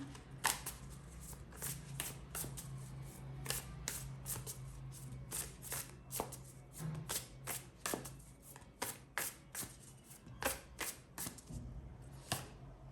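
Tarot cards are shuffled repeatedly in a quiet room, a run of crisp riffling bursts at an irregular rhythm, close up and fairly soft, with no one talking.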